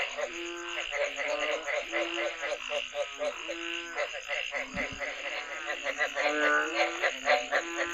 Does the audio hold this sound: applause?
no